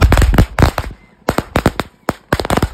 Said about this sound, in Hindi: सो फटाफट से हम लोग पटाखे लगाते हैं और फिर चलते हैं।